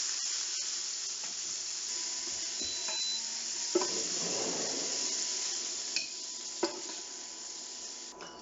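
Rump steak fries in a pan with a steady, moderate sizzle and hiss, broken by a few sharp clicks and taps of utensils against the pan.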